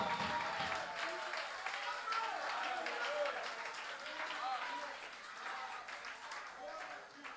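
A church congregation applauds and cheers in acclaim of Jesus, a steady wash of clapping and voices filling the room throughout, fading slightly toward the end.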